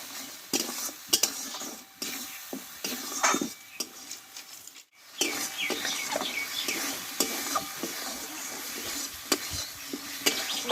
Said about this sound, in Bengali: আর অল্প একটু জল দেব দিয়ে মশলাটা ভালোভাবে কষিয়ে নেবো